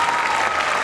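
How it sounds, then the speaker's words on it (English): A brief, dense burst of audience applause at a Pine-Richland school concert, loud and unbroken. "How about another round of applause for all the wonderful acts this evening and all the teachers involved."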